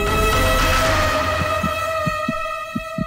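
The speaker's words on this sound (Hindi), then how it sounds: "ये मेरे दिल के धड़कने की आवाज है।" A dramatized heartbeat for a tense scene in a Hindi-dubbed South Indian crime film: a steady series of low, close thumps that emerge over a droning hum and grow more distinct toward the end.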